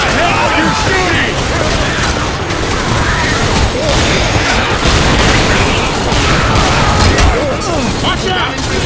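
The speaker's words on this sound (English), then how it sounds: "Where the hell are you shooting?" Gunfire in the zombie shooter Left 4 Dead 2, a steady dense barrage of shots and bangs running the whole time, loud and continuous, with voices talking over the fighting.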